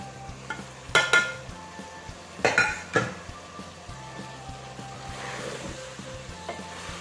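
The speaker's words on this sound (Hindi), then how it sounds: "हरा धनिया, हरी मिर्च मिक्स करेंगे।" Fresh coriander and green chilies are stirred into a sizzling cauliflower-potato curry, with a few loud metallic clanks of a spoon against the pan over a steady frying hiss.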